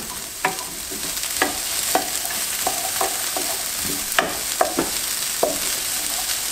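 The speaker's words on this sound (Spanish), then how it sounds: "la vamos a sofreír un poco a que se amortigüe la cebolla" Onion sautéing without oil in a pan for Chinese fried rice, a continuous close sizzle broken by irregular scraping strokes of a utensil stirring and tapping the pan, with no voices.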